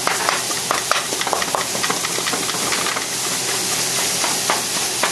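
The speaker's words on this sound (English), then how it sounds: "Mix everything well. And continue to break the meat apart." Ground meat is stirred and broken apart in a hot pan for Vietnamese steamed rice roll filling, giving a steady sizzle with scattered scraping clicks and no talking.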